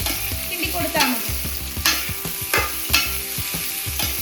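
Sliced onions are stirred in a pan over high flame for chicken liver perattu, with a loud steady sizzle broken by rhythmic spatula scrapes roughly every half second to second.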